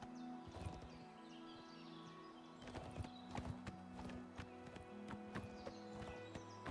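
Horse hooves clip-clop in the Oblivion Remastered video game, a run of sharp, fairly close hoofbeats over an ambient soundscape with faint bird chirps, with a brief whinny or neigh near the start.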